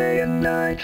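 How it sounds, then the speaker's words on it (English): A brief synthetic vocal sound from a Vox vocal synth effect, buzzy and harmonically dense with shifting vowel-like formants, lasting under a second. "But then you have something called Vox that sounds like this"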